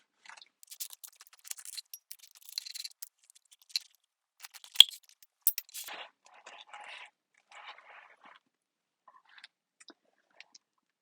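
A knife slicing through a sourdough loaf, cutting it in half: scattered soft crackling and crunching strokes of the crust, fairly quiet and close, with brief sharp clicks and pauses and no talking.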